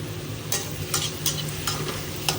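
Onion, chili, small tomatoes and cashews frying in hot oil in a wok, a steady close sizzle with a few sharper bursts of spatter and stirring scrapes, no voices.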